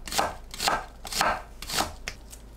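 A knife slicing an onion on a cutting board, with four clear rhythmic cutting strokes close up, each a crisp crunchy slice followed by a soft knock.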